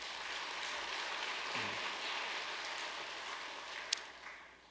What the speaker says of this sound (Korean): 수고하고 계시는 목사님과 식구님들을 위해서 박수 한번 보내올리겠습니다.